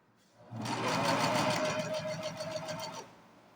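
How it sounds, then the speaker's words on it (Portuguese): A sewing machine runs in a steady close burst of rapid stitching, sewing a short piece of fabric for a toy rabbit, then stops. "ajusta de novo e costura mais um pedacinho"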